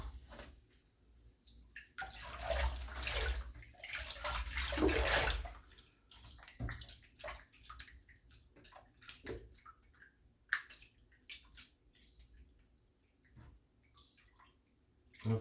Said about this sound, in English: And into the rinse bath it goes.